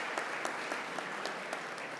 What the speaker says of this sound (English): Yeah, you can clap for the Alexander House.